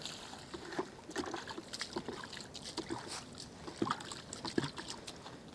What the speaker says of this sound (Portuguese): Vamos pôr mais de água.